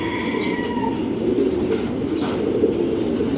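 A pigeon coos in repeated soft, low-pitched calls close by, over a steady background murmur with a few faint higher chirps from other birds.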